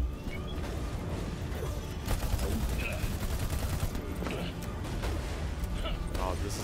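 Rapid bursts of gunfire in the video game Overwatch 2, dense and hectic shooting with game effects, mixed under a player talking excitedly.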